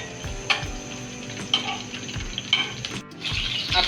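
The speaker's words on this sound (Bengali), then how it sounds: "আমরা একটু চিংড়ি মাছটা ভেজে নিচ্ছি হালকা করে।" Prawns lightly frying in a pan make a close, continuous sizzle, with soft taps about once a second and a brief pause near the end.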